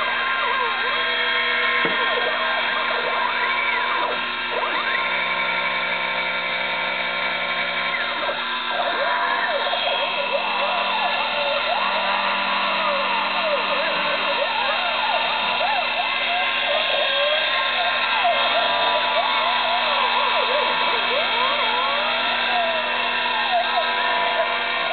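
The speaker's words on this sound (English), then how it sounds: "Cutting this acrylic, it actually heats the bit up so much that it colors the plastic around it at this speed." A Sherline CNC mill run by EMC2 software cuts acrylic at a speed slow enough to scorch the plastic, giving a steady, close motor drone with a high whine and faint tonal overtones for the whole stretch.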